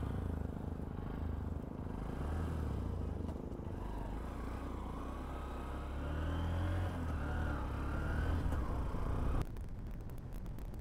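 A 2025 Honda SP125 motorcycle being ridden, heard as a steady, close engine drone mixed with a low wind rumble that holds throughout, with no talking.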